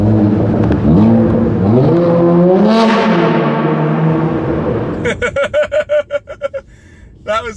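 A BMW M5 engine rises and falls in pitch as the car drives and slides around a small indoor circuit, loud and close, followed by a rapid burst of sharp pops or crackles near the end.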